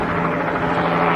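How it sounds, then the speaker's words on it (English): A helicopter flies overhead in the city of Boston, a loud, steady rotor and engine roar that fills the whole moment without a break. "Guys, we're literally being chased by this chopper."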